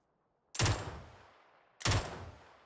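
Two loud, sharp gunshots ring out in the video game PUBG, a little over a second apart, each with a quick decaying tail and no talking.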